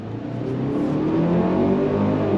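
A 2025 Kia Sportage SX with an inline-4 engine accelerating on throttle, a steady rising engine drone heard from inside the cabin, alone with no talk.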